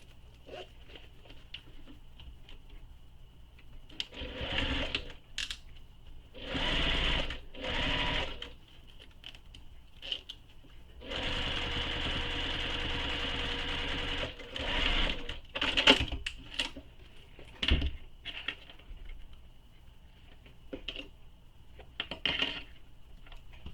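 Sewing machine top stitching a backpack seam, running in several short bursts and one longer steady run of a few seconds, close and fairly quiet, with small handling clicks between stitches.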